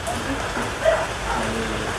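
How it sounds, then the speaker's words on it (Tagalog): Rain falls during a storm in the Philippine countryside as a steady, fairly loud wash of drops on surfaces, with brief voices and sounds mixed in. "Kasi lumalakas yung ulan, may bagyo ata."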